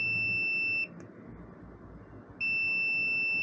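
A multimeter in continuity mode gives a steady high-pitched beep while testing a model railway frog, pauses for about a second and a half, then beeps again.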